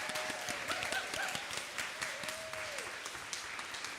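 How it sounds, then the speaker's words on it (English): A church congregation applauds steadily, a dense patter of many hands clapping at a moderate distance, with a few brief cheers or whoops mixed in. "Let's give our amazing children and youth one more big round of applause."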